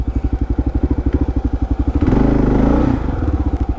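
A Kawasaki KLR650 dual-sport motorcycle putts along off-road through woods, its single-cylinder thump steady and close, then a loud surge and clatter midway as it bashes over a fallen tree before settling back to a rhythmic idle-paced chug.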